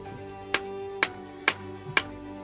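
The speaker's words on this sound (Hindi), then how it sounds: "इसके लिए हमें हथौड़े से तलवार की टांग को" Hammer flattening the tang of an old pirate sword during restoration, four sharp ringing metallic strikes about half a second apart, close and clear with a resonant tail after each blow.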